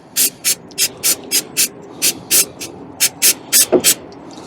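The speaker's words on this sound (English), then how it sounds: "spray copper grease." Short bursts from a spray can of copper grease applied to the wheel bolt threads of a Fiat Panda, about fifteen quick hissing puffs in a steady rhythm, close and crisp.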